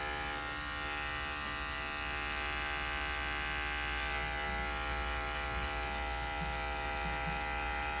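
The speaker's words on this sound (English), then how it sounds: "I would love to sell you guys the same clipper I'm using" An electric pet grooming clipper trims the long, matted coat of a Shih Tzu, giving a steady, close mains-like buzz that runs unbroken for the whole stretch with no talking.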